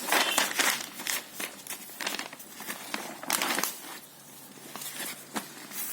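Notebook pages are handled and turned during a maths lesson, with crisp paper rustles and crinkles in several bursts, close and fairly loud, and no speech over them.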